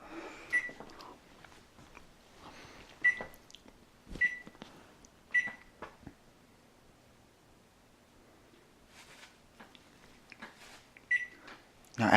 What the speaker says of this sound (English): my boy here, he's going to preheat the oven for us to the exact degree it's supposed to be preheated to